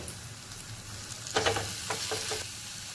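Spices sizzling with spring onion greens in a pan for a dry stir-fry, including coriander powder, Kashmiri red chilli and stored masala; a steady soft fry with a few louder stirring bursts partway through.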